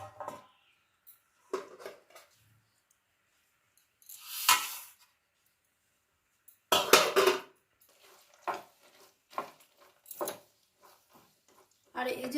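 Peanuts and sesame seeds are stirred together in a pan, making scattered scraping and clattering strokes in short bursts separated by quiet pauses.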